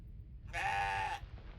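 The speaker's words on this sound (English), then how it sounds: "Playful goat noises." A playful goat bleat from a sci-fi game, one strong, harmonic, wavering cry lasting about two thirds of a second, standing out loud and close over a low background hum.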